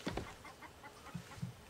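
Chickens cluck in the video game The Saboteur, with a few sharp clucks up close at the start and a couple of softer, lower clucks after a short pause.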